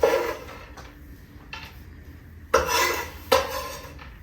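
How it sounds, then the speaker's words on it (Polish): Chopped walnuts clatter into a bowl in a few short bursts, with light scraping and clinking between them, close by and moderately loud. "A teraz będziemy łączyć składniki. Mam się kochani za krojenie orzechów i teraz tak, wsypujemy orzeszki."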